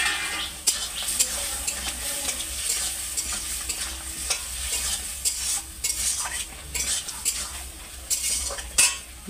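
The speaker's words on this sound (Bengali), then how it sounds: "এটা আমি সব সবজিটা ঢেলে দেবো" Vegetables for a Bengali poppy-seed curry with raw banana and potato sizzle in hot mustard oil while a utensil stirs and clinks against the pan, scrapes and taps irregular over a constant frying hiss, no talking.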